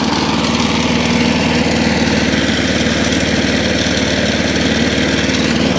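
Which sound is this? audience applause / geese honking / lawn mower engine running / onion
lawn mower engine running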